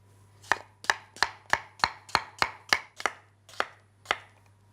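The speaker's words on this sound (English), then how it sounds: "And then I'll cut them into half moon shapes." Knife chopping vegetables on a board into half-moon slices for a salad, about eleven crisp, evenly spaced strokes up close, alone without talk.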